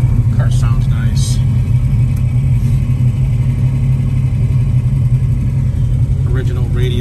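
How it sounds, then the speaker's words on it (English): A 1966 Plymouth Satellite engine idles with a steady low rumble close by, while a few brief faint voices come and go over it. "Car sounds nice."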